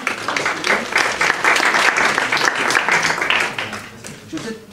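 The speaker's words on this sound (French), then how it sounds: "On peut applaudir." Lively, fairly loud applause from a conference audience after a talk on communication at the 2014 World Equestrian Games, with a fluttering, uneven texture and voices mixed in, easing off toward the end.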